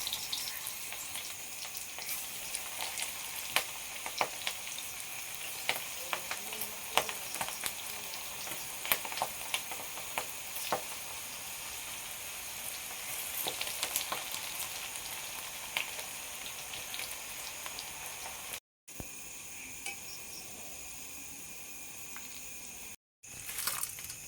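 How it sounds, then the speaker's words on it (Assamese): Okra slices deep-frying in hot oil until crisp, a steady close sizzle and crackle with occasional sharper pops that runs throughout, broken by two brief gaps of silence near the end. "এই ধৰণে মই গোটেইখিনি ভেন্দি ভাজি ল'ম"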